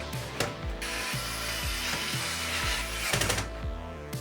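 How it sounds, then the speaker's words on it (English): Screws being driven to mount a motherboard assembly into an NZXT H5 Flow RGB PC case: a steady, close ratcheting clicking with repeated rhythmic pawl ticks running throughout. "After carefully screwing the motherboard assembly into the case"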